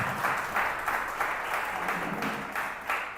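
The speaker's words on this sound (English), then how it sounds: "Let's have a round of applause." A room of people gives a round of applause at a women's league player auction. The clapping is fairly loud and sustained, swelling and easing in a few soft waves with no talk.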